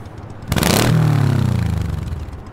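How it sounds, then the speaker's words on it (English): A motorcycle engine revs hard at a driving test. A sharp throttle blip rises to a loud, sustained roar, then slowly settles back toward idle. "Go ahead and rev that engine for me."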